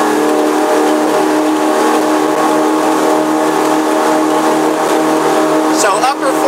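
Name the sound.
Sea Ray 280 twin engine boat accelerating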